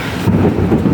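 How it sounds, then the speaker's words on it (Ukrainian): A deep, rolling thunder clap rumbles loudly for a moment, heavy low boom with no voices over it. "Який грім? Це грім."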